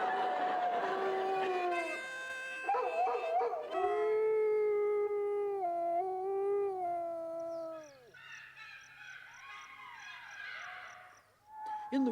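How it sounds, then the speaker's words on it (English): A dog gives a long, loud, sustained howl that rises and falls over several seconds, then breaks into a wavering, higher-pitched howl, close and clear with little else behind it. "The compulsive urge to howl is inherited from their ancient ancestors."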